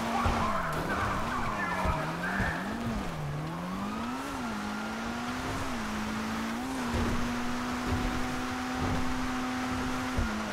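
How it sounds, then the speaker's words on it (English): A Penumbra FF fitted with a titanium big bore tuner exhaust drones through GTA V, its engine note wavering up and down before settling into a steady hum, with faint tire scrubbing along the way. "Got some tuner exhaust on there, the titanium big bore."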